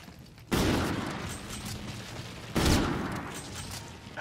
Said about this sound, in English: Sniper rifle still one shot, one kill